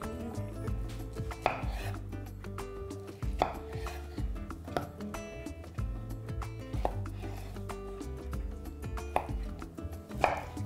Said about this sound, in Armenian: Կտրատում ենք խորանարդիկների։